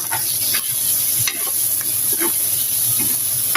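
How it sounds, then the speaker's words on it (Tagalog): Food sautéing in a hot pan for a simple home-cooked Filipino dish, with a steady close sizzle and repeated scraping stirs of a utensil against the pan throughout. "Para lumasa habang ginigisa."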